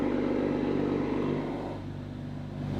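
Toyota MK5 Supra fitted with a Valvetronic Designs exhaust, a deep steady engine rumble that holds then eases slightly before swelling again, close and alone without talk.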